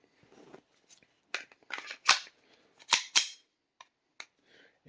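An FN 502 .22 pistol being handled with a snap cap in the magazine, giving a few sharp, close metallic clicks and snaps separated by short quiet gaps.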